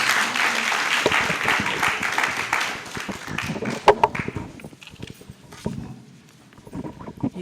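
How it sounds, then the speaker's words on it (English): An audience at a book launch applauds, the clapping dense and loud at first, then thinning into scattered claps and fading out. "Please, a round of applause."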